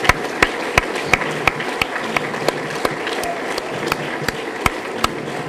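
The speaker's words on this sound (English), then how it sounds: "Let's applaud Bridget Nyland for all she's done." An audience at a college event applauds an athletics director, a steady wash of clapping from a sizable room with sharp nearby claps punctuating it throughout.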